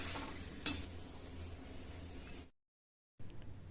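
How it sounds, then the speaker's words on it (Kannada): Flattened rice poha frying in hot oil over a medium flame: a steady, dense sizzle that runs unbroken, cuts out briefly, then returns more faintly. "ಇದೇ ರೀತಿ ಎಲ್ಲ ಅವಲಕ್ಕಿನ ಮೀಡಿಯಂ ಫ್ಲೇಮ್ ಇಟ್ಕೊಂಡು ಫ್ರೈ ಮಾಡ್ಕೊಂಬಿಡಿ"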